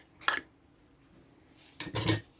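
An egg beaten with coriander leaves in a bowl, heard as two short bursts of a utensil clinking against the dish, separated by a quiet pause, with no talking.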